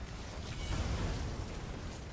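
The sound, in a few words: behemoth boss exploding on death, video game Rockgrove trial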